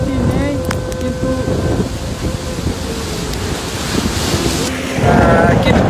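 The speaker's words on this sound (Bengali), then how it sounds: "কিন্তু প্রচণ্ড বাতাস এবং জোয়ারের পানি কিন্তু বৃদ্ধি পাচ্ছে" Strong cyclone wind blowing along the Noakhali coast in Bangladesh amid rising tidewater, a constant loud roaring gust with buffeting on the microphone and faint tonal sounds in the background.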